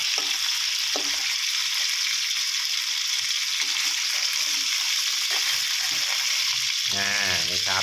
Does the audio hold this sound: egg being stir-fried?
yes